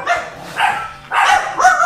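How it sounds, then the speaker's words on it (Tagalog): A dog barks close by in a few short, sharp bursts, a quick pair followed by another after a brief pause. "Ayan, may aso."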